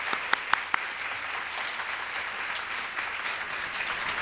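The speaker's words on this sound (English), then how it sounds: "I just want to have another round of applause for these amazing women." A crowd at a women's leadership summit applauds, with several sharp nearby claps standing out at the start over a steady, moderately loud wash of hands filling the room.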